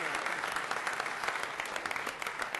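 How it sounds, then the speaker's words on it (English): Applause at a city council meeting in Elmhurst, a steady patter of many hands clapping at moderate volume for a few seconds, with a little crowd murmur mixed in. "How about a nice hand for these three guys?"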